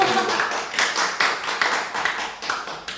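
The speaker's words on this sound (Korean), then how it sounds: "박수로 환영하시겠습니다." Scattered hand claps from a small church audience welcoming a speaker, a few distinct claps ringing out over a few seconds, fairly close and moderate in volume.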